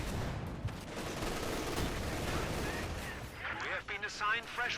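Light machine gun fire crackles in Company of Heroes 2 amid other gunfire and artillery booms, dense and continuous through most of the stretch, with a voice talking over the battle near the end.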